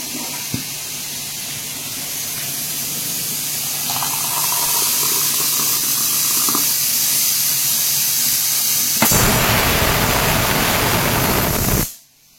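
Peas simmering in a pot alongside tea boiling on a home kitchen stove, a steady close bubbling hiss with a brief louder burst near the end.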